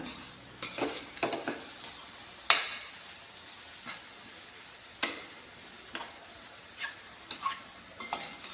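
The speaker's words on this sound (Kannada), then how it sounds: "ಈಗ ಇದನ್ನು ಹುರ್ಕೊಳ್ಳೋಣ ಚೆನ್ನಾಗಿ" Vegetables for a wheat momo filling, seasoned with chilli and pepper masala, stir-fried in a pan, with scattered spatula scrapes and clinks against the metal over a low sizzle, spaced every second or two.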